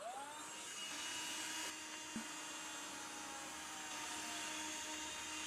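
A homemade cat vacuum invention runs with a steady, loud motor whine and broad airy roar throughout, holding constant apart from a slight dip in pitch early on and a brief knock midway.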